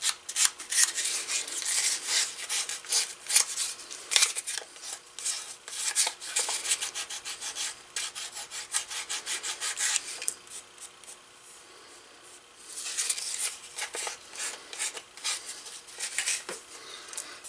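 Hands smoothing and rubbing a heavy-duty leather belt, producing close, repeated scraping and rubbing strokes in irregular bursts, with a brief quieter pause partway through.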